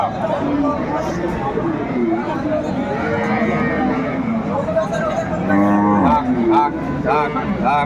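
A dairy cow lets out a couple of long, close moos amid a crowd of people chatting around it at a cattle market in Aftabganj, Dinajpur, Bangladesh.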